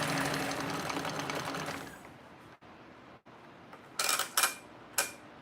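A sewing machine runs forward then reverses to back stitch a seam, with a close, continuous mechanical whir for about two seconds, a brief lull, then a few short sharp bursts.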